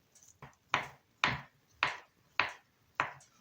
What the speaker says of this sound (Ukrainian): Спочатку нарізаю картоплю